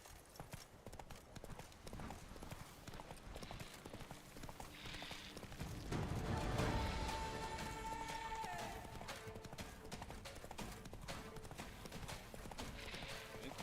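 Horse hooves clip-clop at a steady gallop across open ground in The Witcher 3, with a loud, continuous rhythm and a brief whinny, while a voice speaks over it in places.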